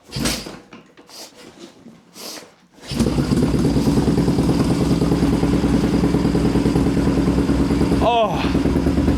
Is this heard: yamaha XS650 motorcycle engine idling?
yes